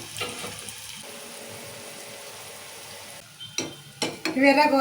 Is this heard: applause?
no